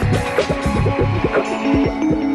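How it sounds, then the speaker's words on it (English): Automatic hosiery machine sewing a pre-cut cotton gusset into pantyhose, a rapid repeating mechanical throb of whirring, pulsing cycles under a steady factory hum. "A pre-cut piece of cotton is slid into the space reserved for the gusset and automatically sewn"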